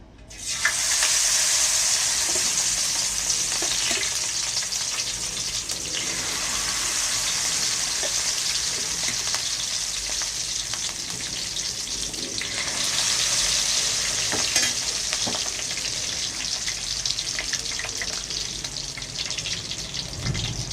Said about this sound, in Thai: ขอใช้เวลาในการทอดสักครู่นะครับ